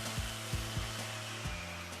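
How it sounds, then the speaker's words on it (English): A chainsaw carving an ice sculpture, its steady engine drone holding a constant pitch with several brief bumps and surges as the blade bites into the ice, close and continuous with no talk. "Chainsaw is an amazing tool, especially the way my father really manipulates it."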